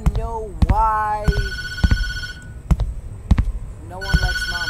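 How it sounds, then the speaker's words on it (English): A telephone rings in the TattleTail horror game, bright repeated ring bursts sounding close and loud, broken up by sharp thumps and knocks. "the phone rings every single night"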